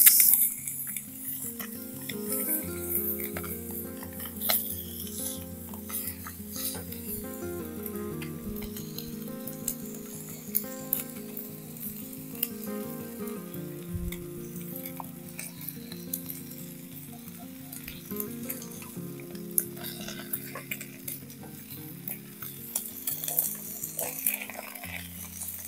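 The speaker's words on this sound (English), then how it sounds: "Now that the eggs have their place, I'll warm up the pre-cooked sausages." Pre-cooked sausages warm in a pan at a rainy campsite, giving a steady low sizzle with occasional scrapes and clinks of a utensil against the pan, fairly close and with no talking.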